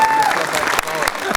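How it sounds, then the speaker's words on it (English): Applause and cheering from a crowd giving a standing ovation at an annual statewide convention, a dense steady clatter of clapping with voices mixed in throughout. "Great standing ovation"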